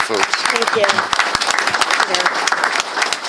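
Audience applause breaking out for a speaker, a burst of crowd clapping lasting a few seconds while someone briefly speaks over it.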